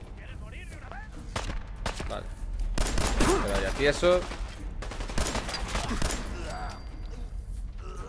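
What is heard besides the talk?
gunfire from a video game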